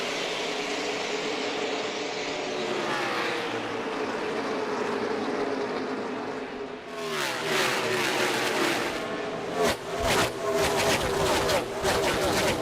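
A pack of NASCAR stock cars roars into a race start at the Dover concrete oval, a broad engine drone that swells into dense, loud passing roars near the end, under a crowd-and-commentary din.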